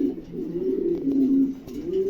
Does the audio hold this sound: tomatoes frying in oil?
no